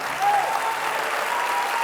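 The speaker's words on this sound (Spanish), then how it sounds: "Dale un aplauso porque él vive." A church congregation gives sustained, dense applause that sounds broad and steady throughout, with a faint voice underneath.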